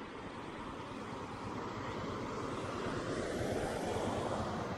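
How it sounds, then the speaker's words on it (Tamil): River water rushes steadily beneath a bridge on the Siruvani River in Kerala, a continuous broadband roar that swells slightly louder toward the end, with no voices. "சவுண்டு பாருங்கள், தண்ணியோட சவுண்டு."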